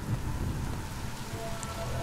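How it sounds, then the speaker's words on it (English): Rain falls in A Plague Tale: Innocence, a steady soft hiss of rainfall with a low rumble underneath, ending in a brief sharp game sound. "Lucas, Hugo, stay out of the rain"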